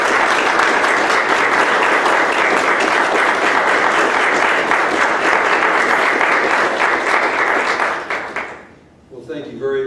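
Loud, sustained applause from an audience at Alderson-Broaddus College welcoming a coach as new athletic director, dense clapping filling the room before fading near the end as a voice begins.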